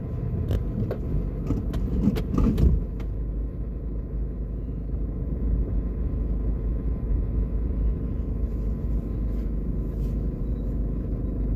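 A car drives along a street among hotels in New Kingston, Jamaica, giving a steady low engine and road rumble heard from inside, with a few brief rattles near the start.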